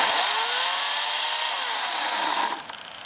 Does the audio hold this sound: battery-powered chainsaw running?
yes